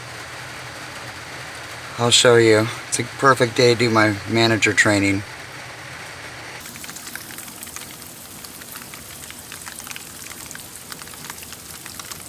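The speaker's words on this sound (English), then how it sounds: "I'm sure you could hear the rain." Steady rain falling outside a converted bus, a constant patter that runs under a woman's speech at first and continues alone afterward.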